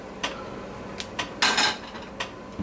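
A metal pan handled on the stovetop while cooking spaghetti-stuffed meatballs: several short clinks and clatters spread out in a quiet kitchen, including one longer scraping rattle in the middle.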